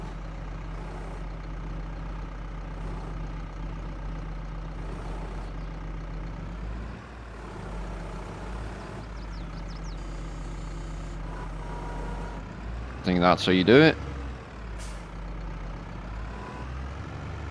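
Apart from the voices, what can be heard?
tractor engine pulling bale trailer in Farming Simulator 22 video game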